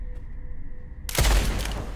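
A sudden burst of loud gunfire in the first-person shooter Blood West, a dense close volley after a quiet stretch, ringing out to the end.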